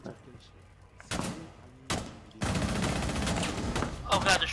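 Gunfire in the video game Rainbow Six Siege: a few sharp, loud shots cracking out, then a dense, sustained volley of rapid shots that keeps going to the end.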